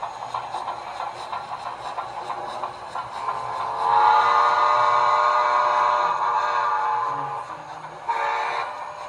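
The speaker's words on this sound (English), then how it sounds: "Let me hear that whistle." A model train whistle blows in one long, steady tone over a low rumble, followed by a short second toot, at a model railroad open house in Hicksville, New York.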